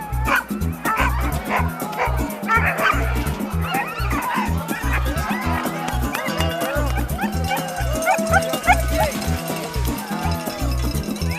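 Sled dogs at a small kennel of sixteen bark, yip and whimper in a loud, constant chorus that sits close by, with steady rhythmic thumping beneath and a few voices and laughter mixed in.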